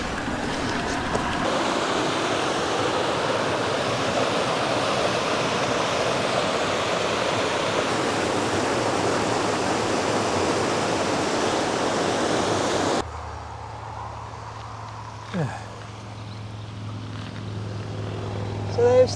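Steady rushing water in the Glencoe scenery of the Scottish Highlands, a loud, broad wash for about thirteen seconds before cutting to a quieter interior hum with brief faint sounds.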